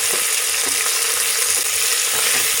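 Onion frying in hot oil in a home kitchen pan, a steady dense sizzle and crackle with faint stirring, close and continuous, no voices.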